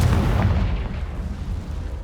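A Confringo fire spell explodes in the video game Hogwarts Legacy: a loud, deep, rumbling blast that swells at the start and then slowly decays into a low roar, with no talking.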